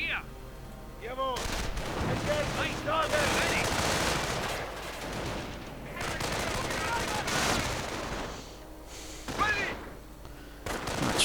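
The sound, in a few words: gunfire from flak Panzers in a video game battle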